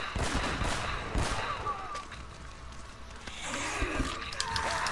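Shotgun blasts and other gunfire crack in rapid, dense bursts during a firefight in Uncharted: Drake's Fortune, loud and continuous with little pause.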